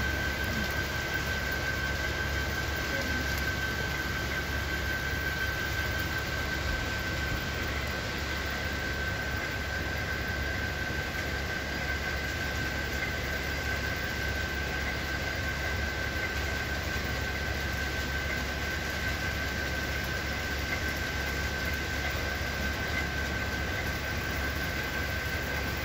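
A model train runs on its track with a continuous, even whirring hum that holds unchanged for nearly half a minute, with no voices.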